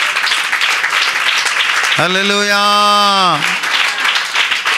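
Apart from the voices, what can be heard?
audience clapping loudly at a church sermon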